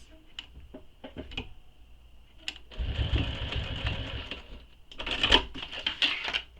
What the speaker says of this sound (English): I'm just going to stitch there a little bit more